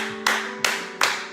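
Three sharp bursts of applause from a church congregation, each a sudden broad crash that fades over a fraction of a second, over a steady hum of organ or keyboard notes.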